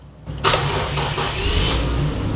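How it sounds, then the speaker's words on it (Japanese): The 1JZ-GTE engine of a JZX100 Toyota Chaser Tourer V cranks and fires up, then settles into a steady idle nearby with no talking. "ちょっと暑いんでエンジンかけちゃいますよ。"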